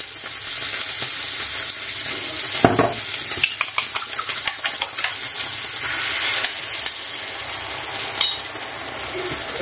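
Eggs hit a drop of hot oil in a pan for a frankfurter omelette, giving a close, loud, steady sizzle dotted with sharp spitting crackles and pops throughout.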